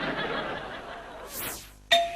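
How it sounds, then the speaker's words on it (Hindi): A household doorbell chimes once, a bright ringing tone near the end after a brief rising electronic sweep, in an indoor comedy-drama scene. "घंटी बजते हुए बहुत देर हो रही है"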